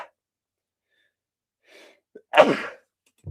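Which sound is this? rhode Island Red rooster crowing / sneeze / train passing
sneeze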